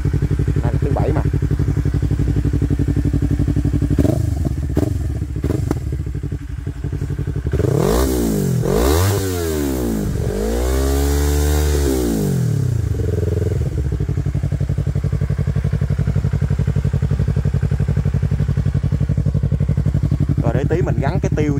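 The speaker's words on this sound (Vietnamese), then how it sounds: "Nay gỡ ra cho nó nghe vui vẻ một chút." Motorcycle fitted with an Akrapovic R3 full exhaust system with the silencer removed, idling loudly and close, with a couple of sharp revs rising and falling midway, while someone talks over it.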